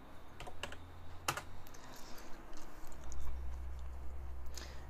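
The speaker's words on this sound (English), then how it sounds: "you go to the address bar and type in www.smsreplier.net" Fingers tap out a web address on a computer keyboard, a close run of light, irregular clicks with no voices.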